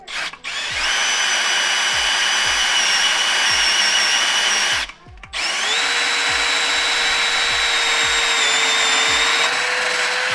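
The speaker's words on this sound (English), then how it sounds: "So now we got to drill." A power drill bores holes into a Nissan Skyline transmission housing in two long, high-pitched whining runs separated by a short pause, close and loud throughout.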